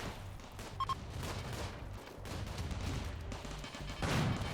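Distant turrets in a video game keep up a muffled, rapid fusillade, with gunfire rattling continuously at a moderate level and a slightly heavier burst at the end.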